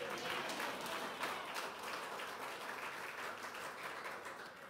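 A church congregation clapping during a sermon, a moderately distant, even wash of many hands that holds steady and slowly tapers.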